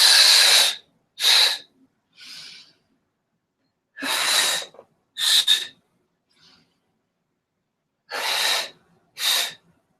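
Deep breaths during a Pilates workout: three rounds of a forceful hissing inhale and exhale, each pair followed by a softer breath, close and clear with silent pauses between.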